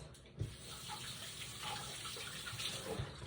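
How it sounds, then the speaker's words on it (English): Tap water running close by in a kitchen sink as hands are rinsed, a soft steady splashing for a few seconds with small irregular spatters. "And I am going to rinse my hands."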